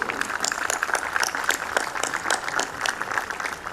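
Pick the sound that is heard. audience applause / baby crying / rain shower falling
audience applause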